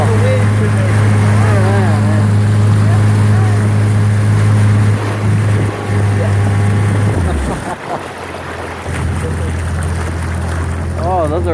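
Boats motor on the water at Disney Springs, a loud steady low engine drone that drops away near the end, with wind and water noise and people talking throughout.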